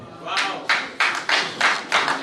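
Crowd of delegates at a political gathering clapping in bursts, loud and close, with several distinct waves of applause swelling and fading across a couple of seconds.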